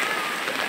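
Heavy rain pouring during a sudden flood, a dense steady hiss of drops beating on a surface, loud and continuous through a brief moment with no voices.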